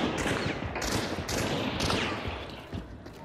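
Gunfire in the video game Hunt: Showdown, a burst of three or four sharp, loud shots roughly half a second apart, each with a rumbling tail, and no talk over them.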